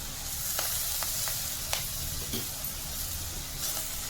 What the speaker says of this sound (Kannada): ಇವಾಗ ನಾವು ಇದು ಫ್ರೈ ಮಾಡಿದಾಗಿದೆ.